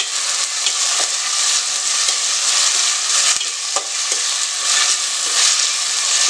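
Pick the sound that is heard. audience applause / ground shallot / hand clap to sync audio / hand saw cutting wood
ground shallot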